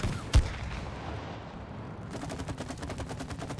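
Gunfire in the co-op video game It Takes Two: a sharp, loud shot near the start, followed by a quieter patch and then a stretch of rapid shots in a steady rhythm.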